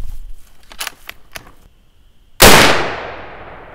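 A single loud, sharp rifle shot from a .450 Bushmaster firing handloaded ammunition, booming close by and ringing out in a long decaying tail, preceded by soft handling clicks and rustles.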